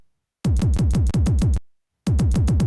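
A tech house loop slice plays as a loud run of rapid, punchy repeated hits for about a second, stops, then starts again, with no talking.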